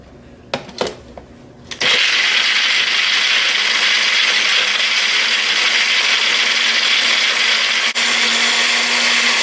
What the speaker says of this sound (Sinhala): දැන් මම කරන්නේ මේ හැම අමුද්‍රව්‍ය තුන එකට මම බ්ලෙන්ඩ් එකේ බ්ලෙන්ඩ් කරගන්න එක